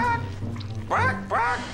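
A person imitates a hen, voicing two squawky, clucking calls up close after a murmur of background sound, in a French-language comedy sketch.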